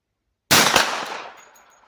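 A single sharp gunshot from a 10mm pistol firing Bear Creek ammunition, loud and close, its report decaying over about a second with a trailing echo.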